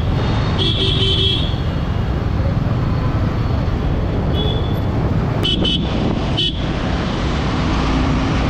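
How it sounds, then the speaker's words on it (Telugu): Busy road traffic near Gandipet Lake heard while riding a Yamaha motorcycle, a steady loud roadway rumble with several short car horn toots, a few early and a cluster of quick honks later. "ట్రాఫిక్ స్టార్ట్ అయిపోయింది."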